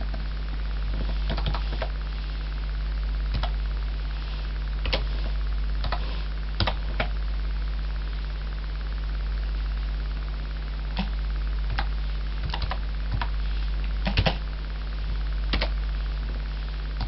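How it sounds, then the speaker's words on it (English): Keys tapped on a computer keyboard in scattered, irregular bursts of light clicks over a constant low electrical hum, close and fairly quiet, with no talk. "Let's see what happens if I try and type in something else."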